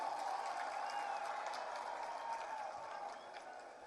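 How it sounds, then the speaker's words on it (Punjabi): An audience claps steadily to welcome ministers at a Punjab swearing-in ceremony. The dense, continuous applause fades slightly toward the end, with no clear voice over it. "ਇੱਕ ਵਾਰੀ ਤਾੜੀਆਂ ਨਾਲ ਸਵਾਗਤ ਕੀਤਾ ਜਾਵੇ।"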